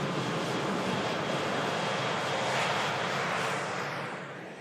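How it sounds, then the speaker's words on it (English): An Emirates Airbus A380 pushes back from its stand at Manchester Airport, heard as a loud, steady broadband jet roar that holds for several seconds before fading away. "We have the mighty Emirates A380 pushing back"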